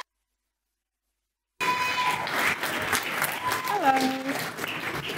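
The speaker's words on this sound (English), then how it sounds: "Round of applause." After a moment of silence, an audience at a business talk breaks into steady, dense applause for a speaker taking the stage. The clapping is close and continuous and carries some cheering.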